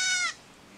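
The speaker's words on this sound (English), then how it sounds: "Goat scream." A goat lets out one short, shrill scream that cuts off abruptly, loud and close, followed by quiet.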